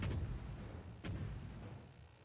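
Heavy naval guns of a warship in the video game World of Warships firing two deep booming salvos about a second apart, each followed by a rumbling decay over constant low background noise.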